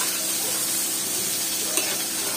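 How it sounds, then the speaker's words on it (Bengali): Egg and snake gourd fry in a pan with green chilies and coriander, giving a steady close sizzle with one brief stirring clink near the end and no talk. "দিয়ে খুব সুন্দরভাবে ভাজা ভাজা করতে হবে।"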